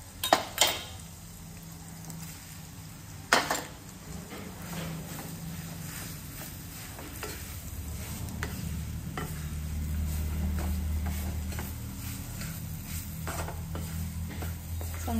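Poppy seeds and grated coconut dry-roasting in a pan while being stirred, a soft steady hiss and scrape with a few sharper clanks of the spoon near the start, rising slightly toward the end.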